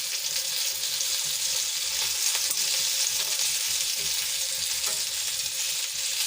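Kathiyawadi stuffed green chillies fry in a pan with a steady, dense sizzle that continues close up and unbroken, with no voices.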